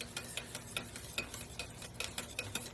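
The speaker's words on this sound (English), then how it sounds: "so I'm just going to keep whisking this" Hot process liquid soap paste being whisked in a crock pot on high heat, a quick, regular run of soft scraping strokes, close up and fairly quiet, with no talking.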